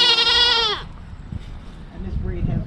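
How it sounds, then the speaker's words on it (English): A horned goat bleats once, loud and close, with a long wavering cry in the first second, followed by people talking nearby. "You are a very pretty goat."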